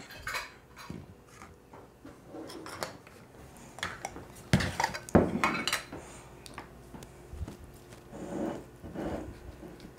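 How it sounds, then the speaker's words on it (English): Black bean quesadillas sliced on a board, with a knife clattering and tapping against the cutting surface in uneven bursts, some sharper knocks near the middle, close and fairly quiet with no talking. "And then we're gonna slice that."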